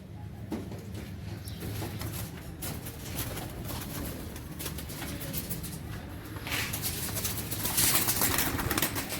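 Pigeons coo softly at close range in a home loft, a low murmuring chorus running steadily throughout with occasional faint shuffles and rustles.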